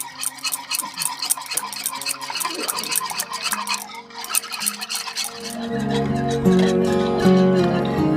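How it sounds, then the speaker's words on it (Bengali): A utensil whisks eggless Christmas cake batter with oil and vanilla in a bowl, producing rapid rhythmic scraping strokes that grow louder and denser toward the end, up close with no talking. "এবার ভালো করে মিশিয়ে নেবো"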